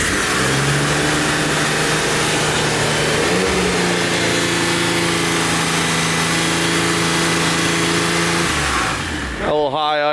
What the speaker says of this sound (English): R33 HKS crate motor fucking monster.